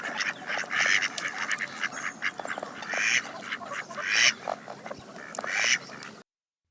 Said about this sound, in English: If it looks like a duck and it quacks like a duck, it's probably a mallard.